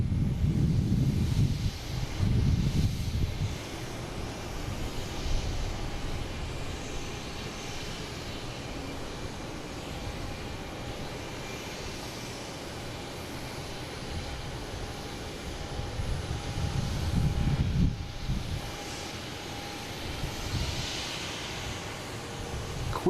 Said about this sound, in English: next taking off is a Embraer Phenom